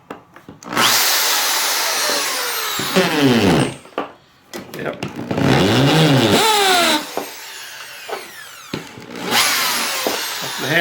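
A Makita HP1640 hammer drill runs in bursts in hammer mode, its loud motor whine rising and falling with a rough percussive rattle across several spin-ups, with a brief spoken word between runs.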